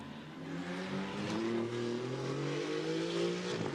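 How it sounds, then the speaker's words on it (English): GT2 race car engines roar and rise in pitch as they accelerate at the Hockenheim circuit, the sound steady and loud as the cars pass. "Great noises that GT cars make,"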